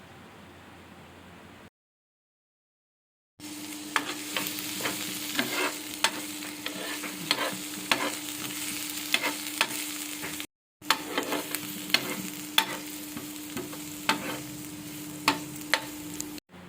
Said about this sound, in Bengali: পেঁয়াজ ভাজার সঙ্গে সঙ্গে কয়েক কুচি আদা আর 4টে রসুন নিয়েছি, সেটাও দিয়ে দেব।